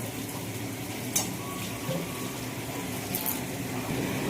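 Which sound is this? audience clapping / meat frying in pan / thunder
meat frying in pan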